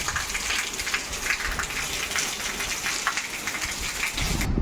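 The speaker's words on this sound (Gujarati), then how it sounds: "આ વખતે જે ચોમાસું ચાલુ થયું એમાં પહેલી વાર આવો વરસાદ આવ્યો" Heavy monsoon rain pours down on a village with strong wind, a loud, dense and unbroken drumming roar that swells slightly at the very end.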